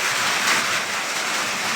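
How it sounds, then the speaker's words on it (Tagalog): Heavy rain pouring down at night, a dense steady hiss with no breaks, fairly loud and close, with no voices. "Lakas na naman ang ulan."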